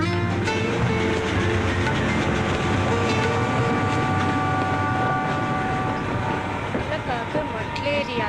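A train rolls past in a Tamil film scene, a loud, steady rumble with rail clatter and horn-like tones that fill the whole stretch while people shout and talk over it.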